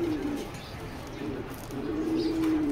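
Racing pigeons coo nearby, with long low droning calls that rise and fade over a soft background of other birds, faint chirps and a brief flutter.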